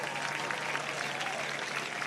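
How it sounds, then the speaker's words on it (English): Gallery at the 2025 CME Group Tour Championship third round applauding a well-judged golf shot, a soft, even patter of many hands clapping at a distance, steady for the whole stretch. "well-deserved round of applause there"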